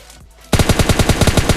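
Rapid automatic gunfire from a battle royale video game bursts in after a brief quiet lead-in, a close, loud string of evenly spaced shots firing about ten times a second with no voices.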